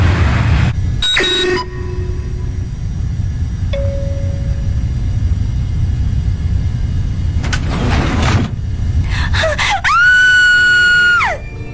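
A loud, piercing scream from a Tagalog movie rises and holds near the end, preceded by a sharp gasp-like burst and quieter tonal sounds over a low rumble.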